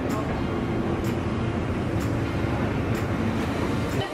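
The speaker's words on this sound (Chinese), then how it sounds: "这个就是我们要坐的小火车了，我们已经坐上小火车了。" A small steam train in Melbourne, heard from a seat in the middle of a carriage: a steady, loud rolling rumble with a soft clack about once a second, continuous throughout.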